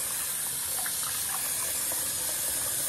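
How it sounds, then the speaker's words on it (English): Water draining from a sink after washing dreadlocks, a steady close gushing wash of sound with no speech. "I gotta let this water out though."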